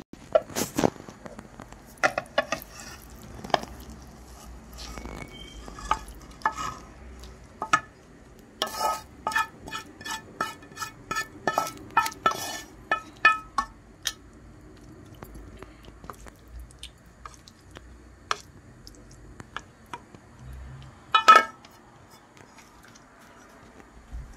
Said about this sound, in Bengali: এটা আমি একটা জায়গায় ঢেলে নিই।